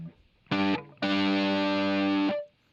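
Two distorted electric guitar power chord hits, a brief first strike followed by a longer held one, loud and unaccompanied before fading.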